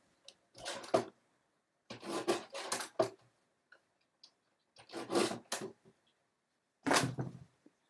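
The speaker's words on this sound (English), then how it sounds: "I'm just going to trim it off on the trimmer." A paper trimmer slices through cardstock in several short, crisp scraping strokes, each a quick sliding rasp separated by quiet pauses, close and clear with no talking.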